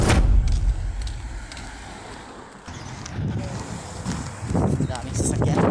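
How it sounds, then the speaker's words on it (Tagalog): Busy street near Dampas Street and a hospital, heard while walking, with a continuous wash of passing vehicle engines and wind noise, rising and falling as cars go by, loud and close, with talk over the traffic. "Daming sasakyan."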